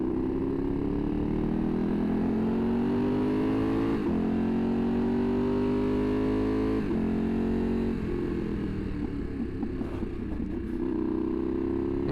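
A big V4 motorcycle engine roars loud and close, its pitch rising and falling through repeated revving surges as the bike bounces over an obstacle, with no talk.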